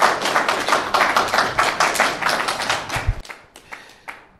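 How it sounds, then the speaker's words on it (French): Audience applause for guests at a forum on Sahel flooding, a dense burst of many hands clapping up close that fades after about three seconds into scattered individual claps. "tonnerre d'applaudissements pour nos éminents invités"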